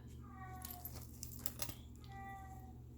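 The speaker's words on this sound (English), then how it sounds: "That is my requisite cat cry during my video." A house cat cries out in distressed meows, rising and falling tones near the start and again at the end, over a low steady hum with a few small metallic jewelry clinks in between.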